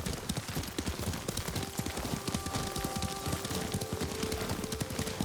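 Galloping horse hooves in the video game Ghost of Tsushima, a fast, steady, close clip-clop rhythm running throughout under a faint sustained tone.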